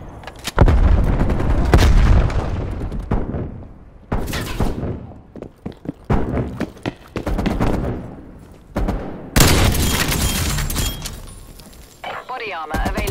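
Grenade blasts and rapid gunfire from Call of Duty Black Ops Cold War in a free-for-all match, loud repeated bursts of shots and booming explosions with short gaps between volleys, and a voice speaking over them.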